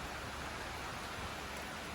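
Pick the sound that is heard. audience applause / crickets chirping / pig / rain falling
rain falling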